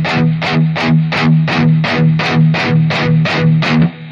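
Distorted electric guitar, a single string picked with palm muting, chugs out about ten even, tight muted notes in a steady rhythm. The notes are loud and close, and the last one is cut off abruptly.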